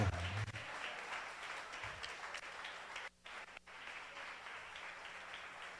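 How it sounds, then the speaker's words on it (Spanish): A church congregation claps during a Spanish-language service, a faint, distant wash of applause that drops out briefly partway through before resuming. "Con ese aplauso de gozo le voy a pedir que se coloque en pie."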